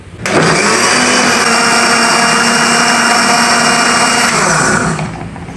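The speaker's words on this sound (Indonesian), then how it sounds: "Kemudian daun ini akan kita blender ya teman-teman, dan kita jadikan sebagai pupuk cair pengganti pupuk NPK ya." A kitchen blender chops banana leaves into liquid fertilizer, starting abruptly and holding a loud, steady, high whir for about five seconds before winding down.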